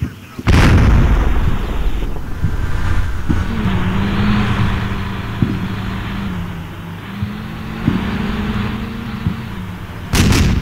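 Heavy gunfire and artillery booms in the Combat Mission: Shock Force war game, loud blasts at the start and end with a rumbling engine drone and scattered shots between, and a voice talking over it.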